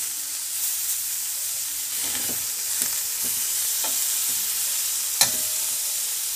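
Meat sizzles steadily in a hot pan with a constant frying hiss, broken by a few clacks of a utensil turning and stirring the pieces, no voices.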